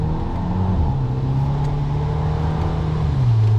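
A Fiat Pulse Abarth T270 at Interlagos gives off a steady, close engine drone that holds an even pitch, then shifts in tone just before the end.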